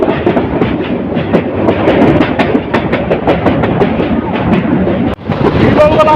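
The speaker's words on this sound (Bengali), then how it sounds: "দুই পাশে উঁচু উঁচু পাহাড় মাঝখান দিয়ে ট্রেন ছুটে চলছে" The Parabat Express train rumbles continuously between high hills near Sreemangal on the Dhaka to Sylhet line, its wheels clattering rhythmically and loudly from inside the carriage, with faint wind noise and a brief dip near the end.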